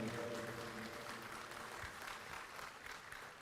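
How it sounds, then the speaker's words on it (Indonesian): Applause at a Democratic Party leadership gathering in Indonesia welcoming the sixth president, a steady wash of many hands clapping, heard fairly distant and faint. "berikan tepuk tangan kepada Bapak Susilo Bambang Yudhoyono"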